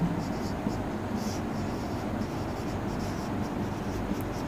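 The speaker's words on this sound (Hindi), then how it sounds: "मैं फिर आपको समझाने के लिए लिख रहा हूं" A pen scratches steadily while a math problem is written out, a continuous soft scraping texture with small irregular strokes, close and fairly quiet.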